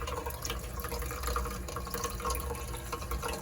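Water pours steadily into the spray tower tank of a salt fog test chamber, a continuous close splashing fill with faint dripping and no talk.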